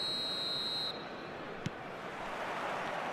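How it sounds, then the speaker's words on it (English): A referee's whistle in a football video game, a steady high tone held for nearly a second and then cut off, over a constant wash of stadium crowd noise with a brief click after it. "There's the whistle."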